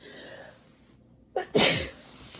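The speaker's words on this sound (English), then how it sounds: "It's probably the last thing you want to hear is somebody sneezing." A single sharp sneeze bursts out after a quick inhale, close and loud, with near silence around it.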